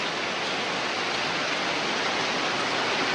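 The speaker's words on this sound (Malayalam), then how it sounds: "ഇപ്പോൾ അടിപൊളി മഴ അത്യാവശ്യം കുഴപ്പമില്ലാത്ത മഴ പെയ്യുന്നുണ്ട്" Steady, fairly heavy rain falls outdoors as a constant, uniform hiss that holds at the same level throughout, with no voices or other sounds standing out.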